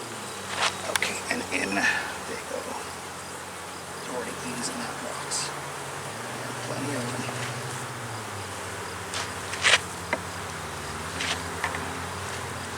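Honeybees hum in a dense, steady drone around an open, crowded hive during a brood box inspection, close and continuous, with faint handling noises and occasional soft talk.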